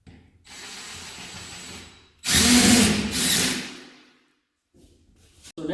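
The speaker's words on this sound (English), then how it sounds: "Always put 2 screws. So we piloted holes in two places." A power drill drives screws into blind mounting brackets in two bursts: a moderate whir, then a louder, longer one tapering off, with brief handling noises after.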